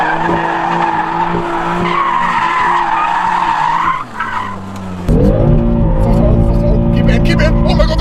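A BMW M3 drifts with loud, continuous tire skidding and a roaring engine, the engine note dropping then surging back hard near the end; people's voices ride underneath.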